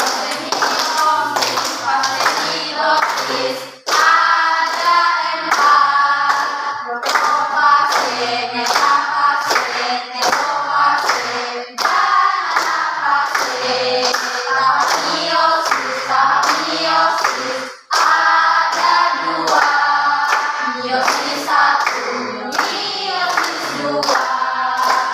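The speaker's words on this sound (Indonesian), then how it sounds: "hitung 1, 2, sambil tepuk tangan ya" A group claps hands in a steady rhythm while counting aloud, many sharp, evenly spaced claps with brief pauses between bursts, voices chanting the count over them in a classroom.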